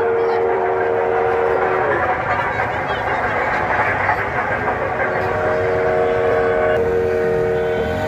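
A model train engine at Delhi's Old Fort gives a loud, continuous running sound that imitates an old locomotive, with sustained whistle-like tones. People's voices mix in faintly.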